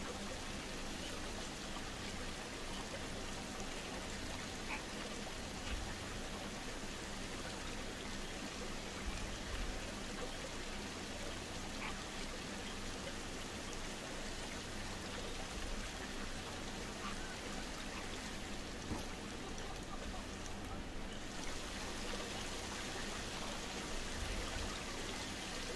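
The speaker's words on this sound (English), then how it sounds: "Sometimes I like to dress the waterfalls up with a little bit of debris, just kind of makes it look a little more natural." Waterfall in a zoo-building video game, a steady, even wash of flowing and splashing water that holds constant throughout, with no voices.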